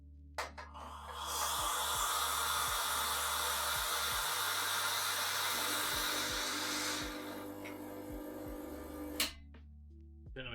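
A coffee machine runs steadily with a loud broadband hiss and whir for several seconds, preceded and followed by low clicks and hums, then cuts off abruptly near the end.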